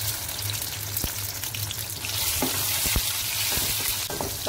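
Tomatoes frying in oil in a pan for chicken jalfrezi, a dense, close sizzle that swells midway, with scattered spoon clacks and stirring scrapes over it.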